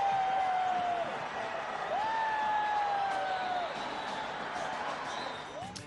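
Indian supporters cheer at a 2003 cricket World Cup match against New Zealand, a broad stadium crowd roar with long whistle tones rising and falling over it, steady throughout and fading slightly at the end.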